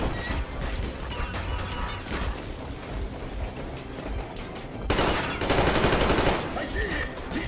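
Sustained heavy gunfire from the video game Metro Exodus during a boat battle, a dense continuous barrage of shots and clatter that swells louder and harsher in the last few seconds, with faint voices shouting beneath it.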